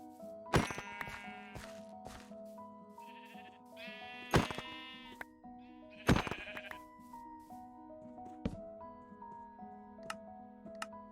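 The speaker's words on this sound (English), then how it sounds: "there's a sheep right there" Minecraft sheep bleating in repeated, wavering calls, a few close and loud and others softer, over quiet game background sounds with no talking.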